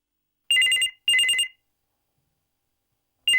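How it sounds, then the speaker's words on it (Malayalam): A telephone rings in two quick bursts of bright trilling bell tone, then starts a third after a pause, loud and clear against silence with no talking. "എവിടെ നിന്നോ ഒരു ഫോൺ കോൾ."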